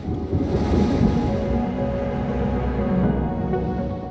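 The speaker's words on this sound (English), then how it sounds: "But there is a storm coming." Thunderstorm in World of Warships, a continuous loud rumbling roar of thunder with wind and rain-like noise throughout, no voices.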